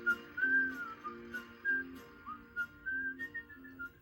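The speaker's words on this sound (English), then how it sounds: "it had Pat whistling at the end of the theme song there" Postman Pat whistles a cheerful tune at the close of the theme song, clear melodic phrases over a soft steady musical accompaniment.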